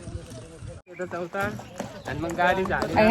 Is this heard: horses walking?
yes